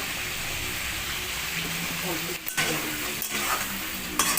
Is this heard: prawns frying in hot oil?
yes